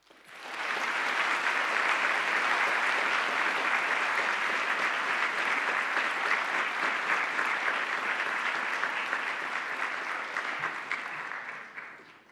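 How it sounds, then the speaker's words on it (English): A large audience at a Model United Nations opening ceremony applauds student officers in a steady, dense round of clapping that holds for about eleven seconds before tapering off near the end. "Let us give these student officers in the General Assembly a well-deserved round of applause"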